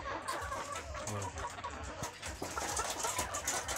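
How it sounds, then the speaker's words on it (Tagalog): Many chickens on a poultry farm cluck and chatter continuously at a moderate distance, a busy overlapping flock murmur with occasional sharper calls. "Daming mga manok idol"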